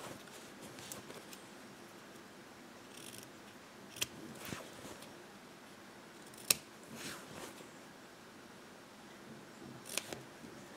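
Scissors snip the corners of a basic cotton fabric bag near the seam, producing a few quiet, crisp cuts spaced irregularly against a soft background hiss.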